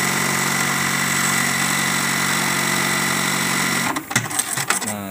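Juki LBH-1790S buttonhole sewing machine runs with a steady mechanical whir for about four seconds, then its cutting knife strikes too harshly with several loud, uneven clacks and thumps near the end.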